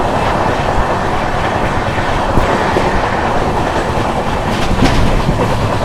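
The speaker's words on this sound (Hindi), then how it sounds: "This is the Purulia Viluppuram Express." The Purulia Viluppuram Express passes close by, a steady loud roar of rolling wheels with rhythmic clickety-clack over rail joints that holds for the whole stretch.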